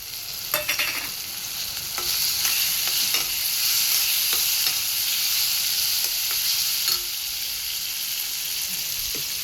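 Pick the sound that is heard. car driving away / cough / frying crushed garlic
frying crushed garlic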